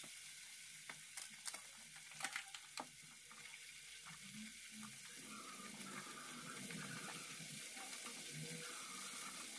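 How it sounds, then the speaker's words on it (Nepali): Spices frying in oil in a pan over low gas for a Nepali drumstick (moringa) curry, a soft continuous sizzle with a few light clinks of stirring early on, quiet and close, with no talking. "अब मसला नै फ्राई हुन लागिसक्यो"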